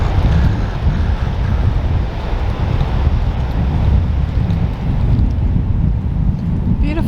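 Wind and ocean surf at Surfers Point, Margaret River, on an overcast day: a steady, loud broadband rush of breaking waves with low wind buffeting against the microphone throughout, no talking.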